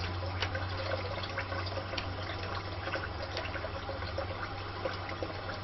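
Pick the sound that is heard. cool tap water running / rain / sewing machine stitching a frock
cool tap water running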